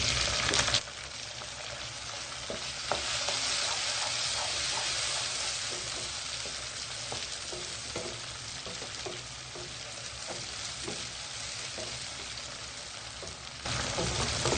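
Tomatoes frying in a pan while baingan bharta is being cooked give a steady, close sizzle with faint stirring scrapes. It carries on evenly for the whole stretch, and no one speaks.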